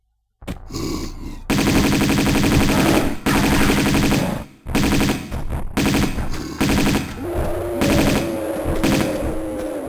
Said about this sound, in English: we are lighting this room up with gunfire, Uzis and pistols